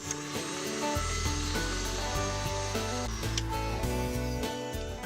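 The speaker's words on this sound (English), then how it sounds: "you want it on a high speed until it leaves a really thick trail when you lift the whisk out" Electric mixer whisking eggs and caster sugar on high speed, a steady loud whirring drone with a rattling beater tone that holds throughout, close up.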